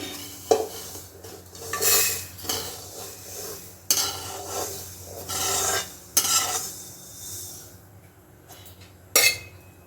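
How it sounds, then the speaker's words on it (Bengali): Dry-roasted dalia poured into a pressure cooker gives a rasping, grainy rush in several bursts, with metallic clinks of the pot, close and moderately quiet. "প্রেসার কুকারে আমি প্রথমেই ডালিয়াটা ঢেলে দিচ্ছি"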